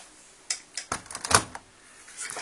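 Door of an Electrolux Intuitive 9 kg LSI09 washer-dryer being shut: a few light clicks and knocks, then a firmer latching clunk, close and moderately loud, with no talking.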